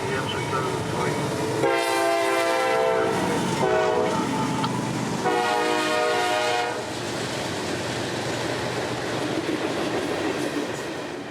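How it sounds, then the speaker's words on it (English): A freight train led by a pair of freshly painted GE wide-cab locomotives rolls past on a straight line, sounding two long horn blasts over a steady rumble and clatter of passing cars. "With a couple of freshly painted GE wide cabs up front, 603 would roll by on his way to Winston Yard in Lakeland"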